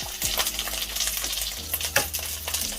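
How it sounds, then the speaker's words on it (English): Chicken wings fry in hot oil, giving a continuous close crackle and sizzle with small sharp pops throughout. "that one too is frying"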